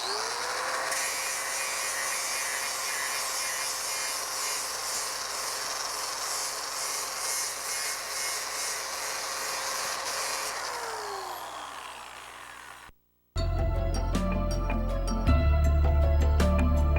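A power tool sands a hand-carved stone sculpture in its first rough sanding pass, a steady, loud, high whining grind that runs for about twelve seconds before cutting off, followed by a different, louder sound.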